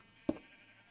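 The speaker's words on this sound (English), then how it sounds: "Why am I looming over my sheep?" A single short sheep bleat from a block-built video game world, fairly faint and quick against a quiet background.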